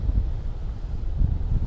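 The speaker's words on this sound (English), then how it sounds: "Even though it's windy" Wind blowing on a white-sand Hebridean beach, a low, rumbling roar buffeting the microphone in uneven gusts, with no voices present.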